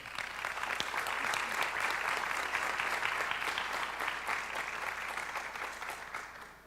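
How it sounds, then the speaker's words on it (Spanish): Audience applause at an awards ceremony for regional writers honoring a winning chronicle: steady, dense clapping from a sizable crowd that holds for several seconds and then tapers slightly at the end. "Pido un aplauso para esa crónica ganadora."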